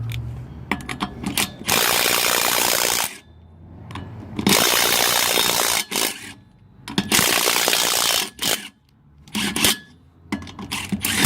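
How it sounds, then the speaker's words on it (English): Milwaukee M12 3/8-inch brushed cordless impact wrench working on car and truck wheel nuts, loud rattling hammering bursts of a few seconds each, separated by short pauses, close and without talk. "M12 BIW 38 3/8 impact wrench, brushed"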